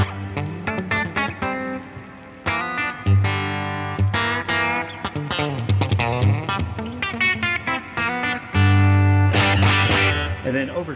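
A Ricardo Sanchez Standard T electric guitar plays a run of bright, resonant picked notes and chords through effects, close and clear, with sustained ringing and no voice over it.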